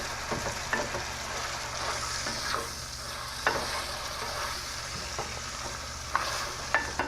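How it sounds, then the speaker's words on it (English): Ground beef browning in a pan with a steady sizzle, while a utensil stirs and scrapes it in intermittent clicks and scuffs, close and fairly loud with no voices. "our beef is browning up nicely"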